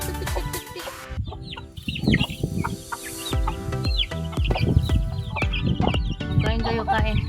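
A mother hen and her ten chicks cluck and peep while being fed grain on a rural backyard farm near rice paddies, soft clucks mixing with high chick cheeps, and someone talks intermittently.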